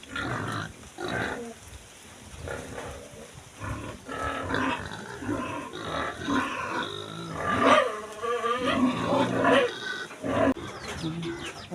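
Pigs in a pen grunt and squeal loudly and continuously, a close, chaotic chorus of several animals with sharp, rising shrieks.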